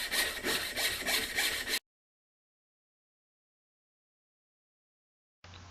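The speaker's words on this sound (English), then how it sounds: "When you're cutting, you can cut right into this wood." Wood being cut with a jeweler's saw, heard as a steady run of quick rhythmic rasping strokes, close and loud, that stop abruptly and leave silence, with a brief noise burst at the very end.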